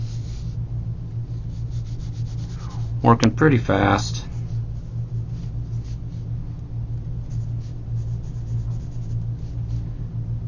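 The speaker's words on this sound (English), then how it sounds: "just sketching and getting the pencil moving around" A pencil sketches on paper with soft, steady rubbing strokes, set against a constant low hum, while a person talks over part of it.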